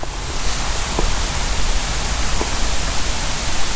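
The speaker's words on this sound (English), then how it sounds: "I can hear the waterfall right now though." A steady, dense rush of falling water at Raven Cliff Falls, South Carolina, broad and hissing, continuous without pause at close to moderate distance.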